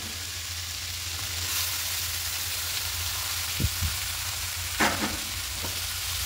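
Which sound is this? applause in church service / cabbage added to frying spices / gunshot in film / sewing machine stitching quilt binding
cabbage added to frying spices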